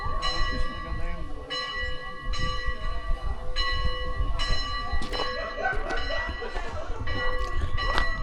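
Church bells ring out on a winter hike in Kasina Wielka, Poland. The loud, repeated tolling strokes carry resonant overtones and come over wind and outdoor rumble, with voices heard briefly.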